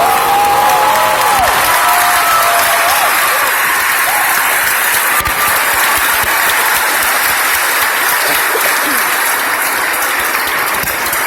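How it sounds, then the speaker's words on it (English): Audience applause at a 2017 graduation ceremony: loud, sustained clapping from a large crowd, dense and unbroken for over ten seconds, with faint voices and a brief tone near the start. "stand up, give her a great applause for the 10 years that she has done wonders for this world"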